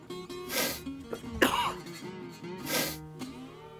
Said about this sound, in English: I'm drinking coffee. Coughing. Coughing.